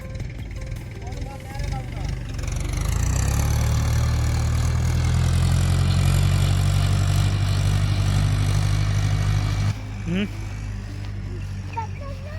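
A tractor engine rumbles closer in a farm field, its low chugging growing louder and steady, then cutting back abruptly near the end; voices talk over it.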